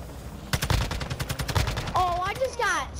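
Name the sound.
gunfire in DMZ video game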